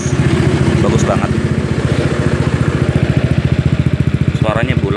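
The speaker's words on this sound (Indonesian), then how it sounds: "untuk beberapa orang, knalpot ini katanya suaranya kayak knalpot bocor gitu ya" A 2018 Honda PCX scooter with an R9 Misano aftermarket exhaust runs close by, its deep, round, steady throbbing pulse loud and continuous, with a voice talking briefly over it.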